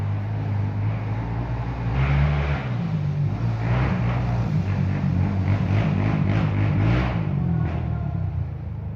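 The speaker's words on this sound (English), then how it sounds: "Clever clogs racing around up quad bikes, as you do." Quad bikes racing around near woodland, a continuous low engine drone with rising and falling revs, steady and fairly loud throughout with no talk.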